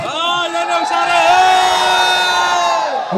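Spectators at a football final between Kosambi Bethurpara and Town Team Uduma shouting and cheering together in a loud, continuous roar of voices, with one sustained whooping cry rising above the crowd.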